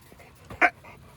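A dog on a training walk pants softly, followed by a single short, sharp whimper close by. There is no talking.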